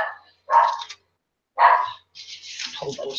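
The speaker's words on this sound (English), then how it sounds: "Yep, the dog gets them going every time." Dogs bark indoors in two loud, separate bursts about a second apart, followed by a longer stretch of mixed barking or yipping, up close.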